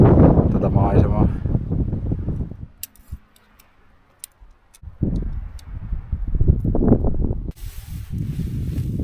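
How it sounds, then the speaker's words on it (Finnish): Gusty wind blowing across a steep cliff island campsite in early autumn, a rushing hiss with buffeting on the microphone, loud and close, rising and falling between stretches of talk. "Täällä on aika tuulista."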